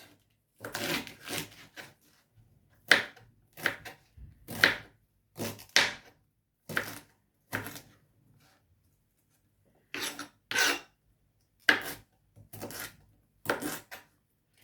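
A knife chops red cabbage into small sections on a cutting board at home, giving crisp, separate strokes in short uneven bursts with brief quiet gaps between them.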